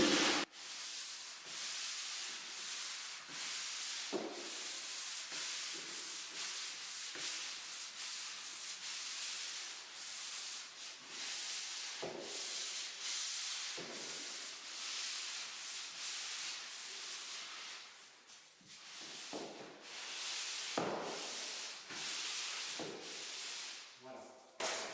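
Plasterboard ceiling sanded by hand gives a rhythmic, close rasping scrape, stroke after stroke in irregular bursts, fairly quiet and unbroken across the whole stretch without talk.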